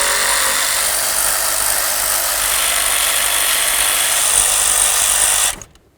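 A power tool spins out 8mm bolts on a 2007-2017 Ford Expedition engine, a steady, loud high-pitched whine running close and unbroken for several seconds before cutting off abruptly.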